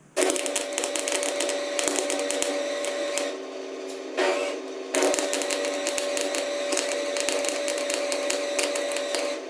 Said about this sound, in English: one offset bolt just welded together